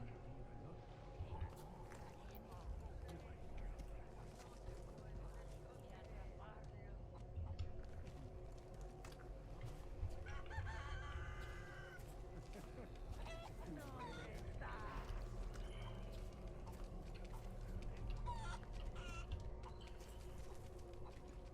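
A chicken in the video game Resident Evil 4 Remake gives a few soft, scattered clucks over a steady game ambience, with a voice talking throughout.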